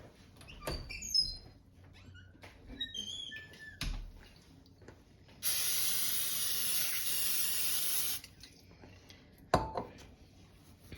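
A steady hiss of cooking spray lasts a few seconds, between quieter kitchen clinks and clatters.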